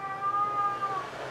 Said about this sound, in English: Oh, I don't know if you can hear. Here's the kitties over there.